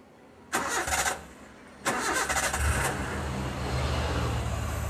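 A Zebra Espass car engine cranks briefly, cuts out, then starts on a second try and settles into a steady, close idle after its ignition rotor has been replaced.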